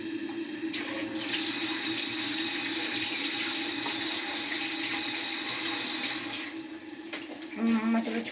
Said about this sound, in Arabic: هنغسل معلقه.